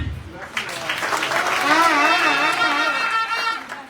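Audience applause at a candidate presentation rally in Folon, a dense steady wash of clapping that swells and holds loud throughout, with voices mixed in and a brief vocal cheer near the middle.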